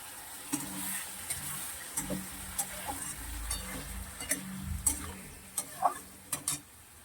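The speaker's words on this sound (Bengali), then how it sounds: "মশলাটা ভালো করে কষাবো এবারে" A spice paste is stir-fried in a pan alongside frying potatoes, with a continuous sizzle broken by repeated sharp scraping and stirring clicks at an uneven rhythm, close and fairly quiet, with no voices.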